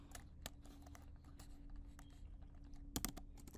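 Keys clatter in quick, irregular taps on a computer keyboard while a word is entered into a design program, close and fairly quiet over a steady electrical hum, with a denser burst of keystrokes near the end.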